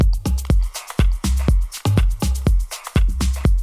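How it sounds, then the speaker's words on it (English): Melodic techno drums in the drop hit hard and alone, with pounding kicks on a steady beat, dense hats and percussive layers filling the gaps, and a pumping, sidechained feel that drives forward. "And this is how they sound in the drop."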